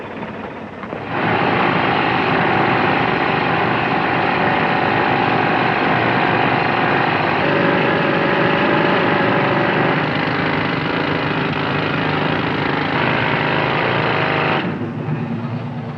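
A drilling machine at a blasting site starts up and runs with a loud, continuous mechanical roar, holding steady for about thirteen seconds before dropping off near the end.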